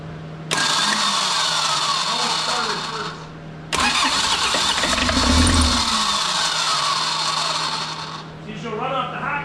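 A 1984 Ford Escort's engine cranks twice in long, loud starter bursts, the second catching briefly into a rough run before fading; a voice talks near the end.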